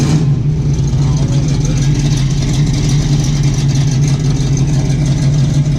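A car engine with an exhaust leak idles close by with a steady low drone and a rough, raspy puttering edge, constant and loud throughout.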